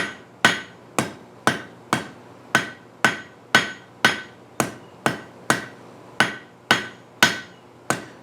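A hot 3/8 inch square steel bar is hammered on an anvil to scarf it for a forge weld. About fourteen sharp, ringing blows land at a steady, even pace, loud and close, with no talking.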